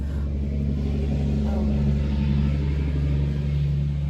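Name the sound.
dump truck rumbling past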